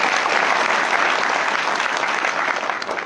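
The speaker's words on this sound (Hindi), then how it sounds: "बेटा एक बार अमित के लिए जोरदार ताली बजाइए" Loud, sustained applause from an audience at a student award ceremony, dense clapping filling the whole stretch without a break.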